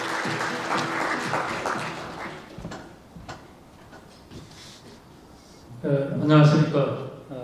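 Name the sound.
audience applause at a showcase event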